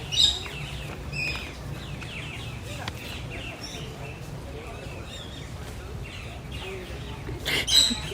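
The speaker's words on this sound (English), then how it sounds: "those are like pretty cool birds up there" Birds calling overhead at Disney's Animal Kingdom, a few thin high chirps and tweets rising briefly over a steady murmur of park crowd and ambient noise.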